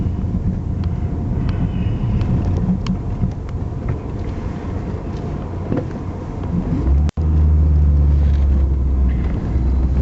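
Steady low rumble from inside a car driving over a potholed road in Gibshill, Greenock, with occasional knocks and rattles, then a brief dropout followed by a heavier, louder booming rumble.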